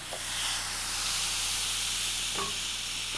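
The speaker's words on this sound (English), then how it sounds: "put both of these on your hot grill, close the lid." Shrimp kebabs sizzle on a hot George Foreman grill with the lid closed, a steady close hiss of frying that holds evenly throughout, broken by a couple of faint clicks.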